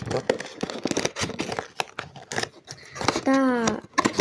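Several quick snips of scissors cutting through the plastic packaging of a Labubu toy, rustling between cuts, with a person talking briefly nearby.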